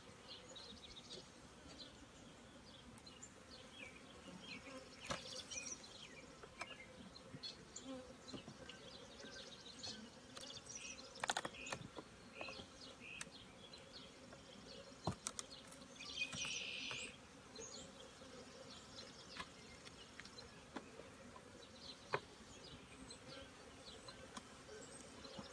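Honeybees buzz around an open hive in the early morning as queen cells are started, a faint continuous drone with individual bees whizzing close past now and then.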